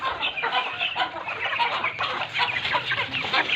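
Flock of hens clucking and chattering close by, a busy continuous mix of overlapping clucks waiting to be fed spinach greens.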